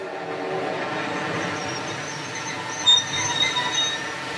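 A train carrying soldiers rolls on rails at night near the village of Ascq in northern France, with a steady rumbling roll and metallic wheel squeals and clanks rising near the end.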